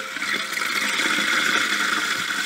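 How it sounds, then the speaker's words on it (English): Water rushes steadily into a toilet tank through a newly replaced fill valve, a continuous close hiss and gurgle that holds even throughout, with no voices. "we're ready to turn on the water again"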